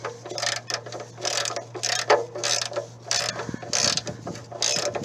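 A torque wrench ratchets in repeated bursts of rapid mechanical clicking while a bolt is tightened, close and fairly loud over a low steady hum.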